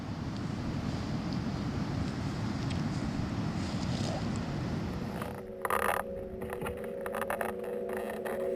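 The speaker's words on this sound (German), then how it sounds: "Eiskalter Wind pfeift hier." Icy wind blows hard across an Alpine mountain crossing from Füssen toward Lake Garda, a loud rushing roar buffeting the microphone, easing briefly near the end before gusting again.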